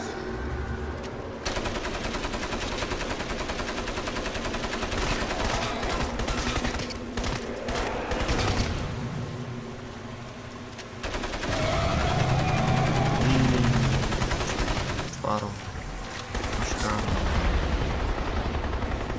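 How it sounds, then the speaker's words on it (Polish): Rapid bursts of automatic gunfire from a weapon in a mine-climbing video game, firing on its own in long sustained volleys with brief gaps, loud and dense throughout. "Broń sama strzela."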